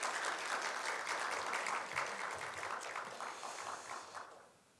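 A church congregation applauds together at a Sunday service after a baptism, steady clapping filling the room before tapering off near the end.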